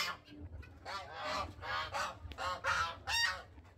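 A small bantam hen of the galinzé breed at a Brazilian street market calls in a series of loud, nasal, honking clucks, close and repeated in quick bursts, with faint background noise.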